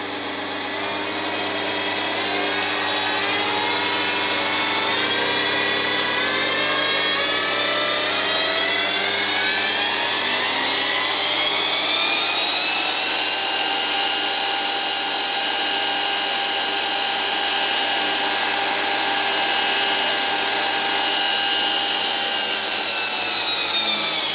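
A Scheppach DP55 bench drill press runs continuously at 500 RPM and is then sped up, its loud, close motor whine rising smoothly in pitch partway through before holding steady at the higher speed, with no one talking.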